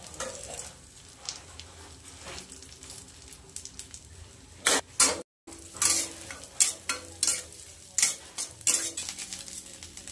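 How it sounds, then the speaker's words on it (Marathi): Almonds and cashews fry in two spoons of ghee while being stirred, producing a soft sizzle broken by irregular clinks and scrapes of a spoon against the pan, close and without talk. "2 चमचे तूप टाकून घेऊया त्याच्यात. बदाम आणि काजू"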